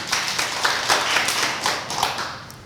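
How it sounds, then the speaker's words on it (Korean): A church congregation clapping together in praise during a Wednesday worship service, a dense burst of many hands with uneven rhythmic peaks, filling the room at moderate loudness. "하나님께 영광의 박수 한번 드려요"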